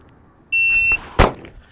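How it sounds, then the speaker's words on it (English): An electronic shot timer gives one sharp, steady beep lasting about half a second to start a pistol drill, followed a moment later by a single loud, close pistol shot. "on the beep"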